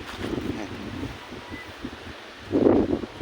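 Strong wind gusting over a cucumber field, rustling and buffeting the microphone in uneven bursts, with a louder gust near the end.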